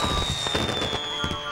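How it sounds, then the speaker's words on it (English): Fireworks rockets at a fun fair on Bonfire Night go off as a string of sharp bursts and crackles over a steady musical tone, fairly loud throughout. "arrived at the fun fair as the fireworks began. The rockets soared,"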